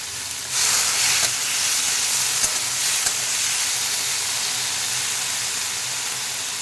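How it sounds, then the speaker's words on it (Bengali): Loud, continuous sizzling of small shrimp coated in salt and turmeric frying in hot oil in a wok, with a few soft clinks of stirring, close and steady throughout. "এবার মেখে রাখা লবণ হলুদ চিংড়ি মাছটা দিয়ে দেব, ভালো করে ভেজে নেব"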